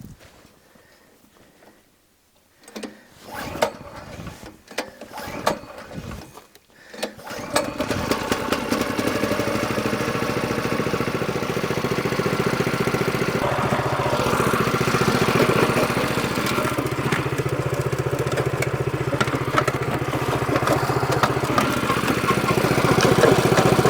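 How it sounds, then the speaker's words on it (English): An engine-driven rock crusher for crushing ore sputters through a few rough start attempts, then catches and runs at a steady, loud drone that holds to the end. "we're gonna throw this in the crusher and squish it up"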